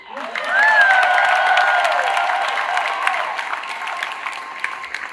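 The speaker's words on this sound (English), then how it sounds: "If you knew what I know, you would clap better." Wedding guests clap in a full hall as a ceremony opens, a broad burst of applause that swells and then slowly thins, with whoops, cheers and a high tone drifting over the hands.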